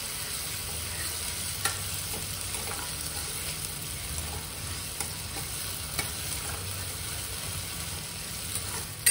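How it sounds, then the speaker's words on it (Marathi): Onion and tomato sautéing in a pan for sambar, with an even, moderate sizzle and frying hiss under repeated stirring scrapes and a few soft knocks, no talk. "आता इथं छान असं कांदा आणि टोमॅटो भाजलेला आहे, परतलेला आहे"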